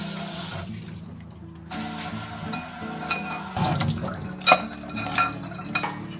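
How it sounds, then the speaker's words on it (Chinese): Tap water running in a sink while male hairy crabs are scrubbed clean, a steady splashing stream with scraping, knocking and clattering from the shells and brush, close by with no talk. "我买的是公蟹，给它刷洗干净"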